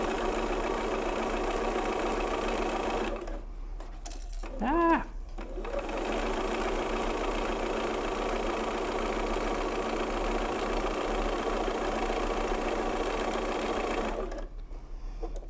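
A sewing machine runs steadily, stitching fabric under a 1/4 inch presser foot while piecing half square triangle quilt blocks. The even mechanical hum goes on for several seconds with a brief pause and a short squeal partway through, heard close up.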